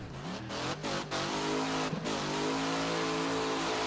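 Piper MKII mod car in Wreckfest revving hard through its gears, a loud continuous engine whine with sweeping pitch changes and a few brief dips between shifts.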